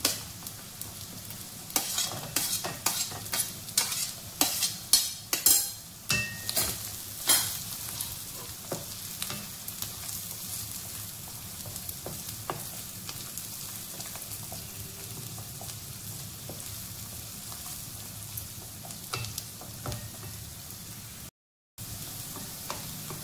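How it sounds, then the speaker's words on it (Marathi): Corn kernels and carrots fry with onions in a pan, giving a steady sizzle under sharp clatters of stirring that are busiest early on and then settle into continuous crackling hiss. "कांद्यामध्येच आपल्याला हे मक्याचे दाणे टाकायचे आहेत।"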